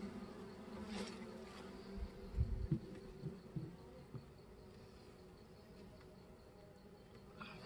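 Honeybees around a Langstroth hive give a faint, steady buzz, with a few louder close passes and light handling knocks early on.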